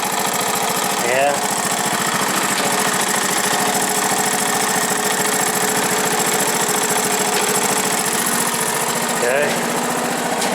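A 1970s Honda ATC three-wheeler engine runs loud and steady with a rough, knocking idle, while two brief grinding shifts of the gears cut in near the start and end.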